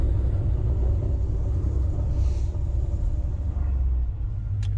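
Dodge Challenger ScatPack exhaust gives a steady, loud low rumble throughout, with faint crackles over the drone, heard from inside while driving.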